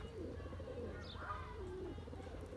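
Domestic flying pigeons coo softly over a steady low background hum, with a faint brief chirp and no talking.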